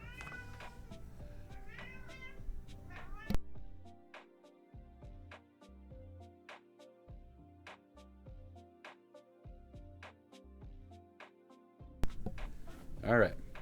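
A pet cat meows a few times near the start, short rising calls over quiet background music and game sounds, with another brief meow close by near the end.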